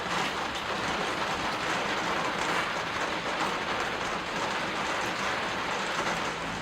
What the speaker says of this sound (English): it's time to rinse the tree off now